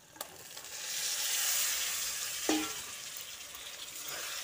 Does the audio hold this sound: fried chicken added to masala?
yes